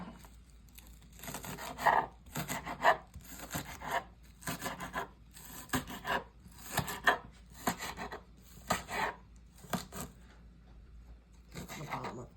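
A knife chopping scallion on a cutting board in a home kitchen, about a dozen soft rhythmic thuds and scraping strokes in an even pattern, fairly quiet and close, with no speech over them.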